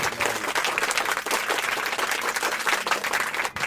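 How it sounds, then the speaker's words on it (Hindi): Thunderous audience applause at a poetry recital, a dense, continuous wall of clapping from a large crowd that holds steady for the whole stretch. "वाह, तालियों की गड़गड़ाहट"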